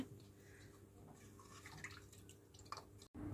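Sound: washing cut potatoes and bitter gourd in water

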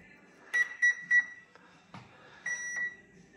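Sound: beep from RC Suzuki Jimny model car electronics

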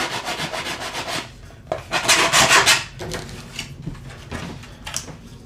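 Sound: sanding Stormtrooper thigh armour piece with homemade sanding tool

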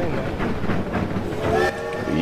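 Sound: train moving in Fistful of Frags video game

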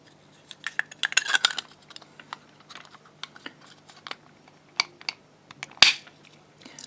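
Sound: closing a cover of a fault warning circuit

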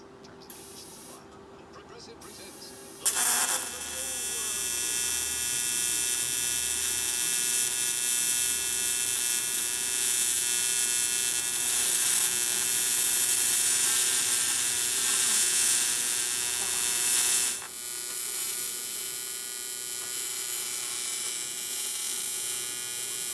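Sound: AC TIG welding aluminum valve cover

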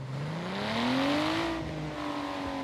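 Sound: Nissan GTR engine revving in a racing video game

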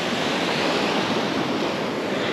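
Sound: sea waves washing over sandbar on Łeba beach

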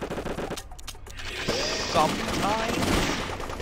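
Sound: gunfire in the VIP video game, shooting through limo windows

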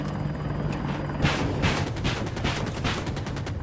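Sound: helicopter in video game Battlefield 2042

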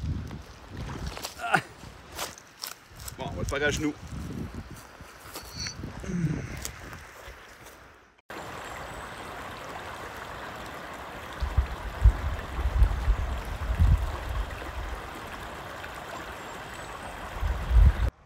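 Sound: river flowing at riverbank

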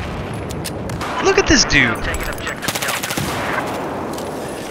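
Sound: gunfire in the video game Battlefield 4

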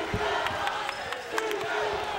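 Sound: sellout basketball arena crowd

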